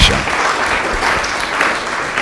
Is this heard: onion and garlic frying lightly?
no